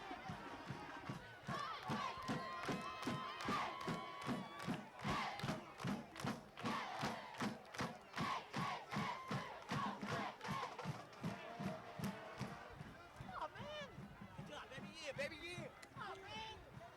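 Excited crowd at a 1996 high school football game, Hawthorne vs Dorsey, chanting and cheering in a steady rhythmic beat of stomps and shouts, with a loud, dense roar that keeps up across the stadium.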